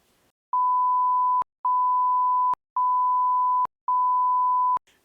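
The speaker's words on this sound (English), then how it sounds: "I'm sure you probably just heard 3 beeps right there." Four clean, steady electronic censor-style beeps at one pitch, each about a second long with short gaps between, loud and isolated with no talk around them.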